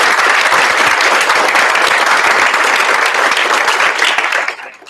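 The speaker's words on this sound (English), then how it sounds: "give them a round of applause" Audience applause for a panel of speakers at a talk on party assistance, a dense steady clapping from a full room that carries loudly for several seconds before tapering off at the end.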